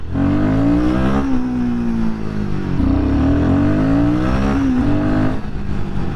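A Royal Enfield Guerrilla 450 motorcycle engine accelerating up close and loud, its single-cylinder drone rising in pitch through gears, dipping at a shift, then climbing again in a continuous strong roar.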